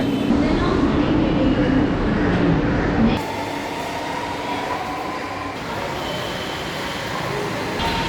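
A Chennai Metro train rumbles loudly through the International Airport station, then the roar drops to a steadier, quieter hum of the idling carriage and surrounding noise.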